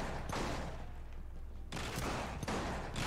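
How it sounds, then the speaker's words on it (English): Shotgun blasts in The Bourne Conspiracy, two heavy booming shots about a second apart with a sharp attack and a noisy, rumbling decay, fairly loud against a quiet game background. "Okay, shotgun has like no recoil"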